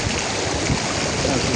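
Cold stream water rushes steadily and close by, a dense continuous wash with no pauses.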